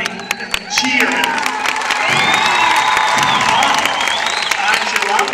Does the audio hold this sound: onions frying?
no